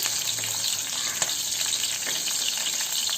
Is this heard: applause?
no